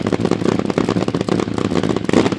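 A loud, rough nitro Hemi drag racing engine roar with rapid crackling pulses, steady and close, running hard at a drag strip.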